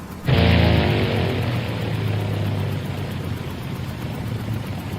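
Light aircraft engine running steadily and loud with a low droning hum and strong broadband roar, the noise holding fairly even as the engine is said to cut out.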